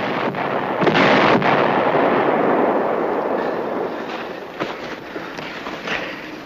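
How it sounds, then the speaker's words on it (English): An American artillery barrage in a 1963 TV war drama, a dense continuous roar of rumbling blasts with sharper thuds scattered through it, loud and sustained before easing slightly. "American artillery starting its barrage."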